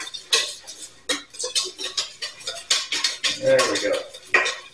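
Egg being stirred into hot garlic soup in a pot: a steady run of close metallic clinks and scrapes as a utensil knocks against the pot, with a brief spoken remark partway through.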